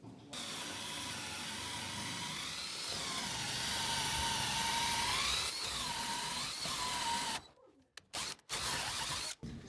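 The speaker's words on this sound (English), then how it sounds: "So that's how you drill the hole." Power drill boring a hole for house wiring in a farmhouse under construction, a steady whining drone with the pitch sagging as it bites, then stopping in short bursts.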